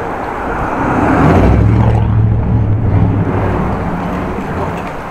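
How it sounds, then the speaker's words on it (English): A V8-engined car rolls through a city centre street, a loud low rumble that swells to a peak around mid-pass and then eases off as it moves away, with no voices. "there was the sound of a V8"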